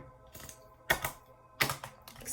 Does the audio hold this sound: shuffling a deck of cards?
yes